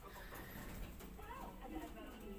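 Young Taiwan pigeons, black check and blue bar birds, cooing softly in a loft, a low steady murmur with faint background noise and possible voices.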